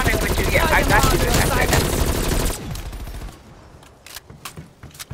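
Rapid automatic gunfire from Call of Duty: Black Ops Cold War rattles loud and close for a couple of seconds, then fades into scattered distant shots and game noise.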